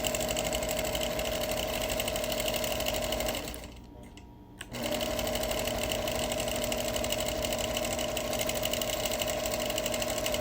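A sewing machine doing freehand quilting on a beach panel hums at a loud, steady, rapid stitching pace, drops off for about a second partway through, then runs on evenly, with no talking over it.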